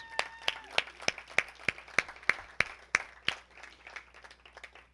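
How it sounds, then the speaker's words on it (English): Sparse, evenly spaced claps from a small gala audience, about a dozen distinct sharp hits at a steady rhythm, fairly close and quiet, fading toward the end with a faint murmur underneath. "I really want to give all of you a round of applause."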